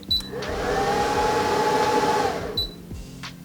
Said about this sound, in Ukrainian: Круто, наш інвертор запустився.